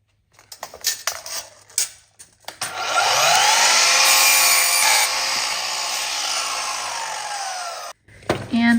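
After a few light knocks, a power saw bites into a wooden fence board being cut into birdhouse pieces, screaming loudly and steadily for about five seconds before stopping abruptly, then a brief clatter follows.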